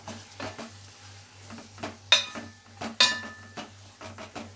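A spoon scrapes and clinks against a pot while spices are stirred into brinjal curry cooked with ghee, with two sharper metallic knocks among softer scraping strokes and a low steady hum beneath.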